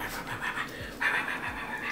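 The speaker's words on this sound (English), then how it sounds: "Hi, this is my doggy West." A pet dog pants quickly and rhythmically close by, steady breathy huffs running throughout with no talking.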